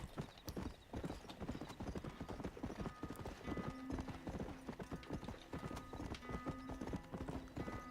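Horse hooves clip-clop steadily in Red Dead Redemption, a quick, uneven rhythm of soft thuds close by at low volume, with a faint whinny-like tone in the background.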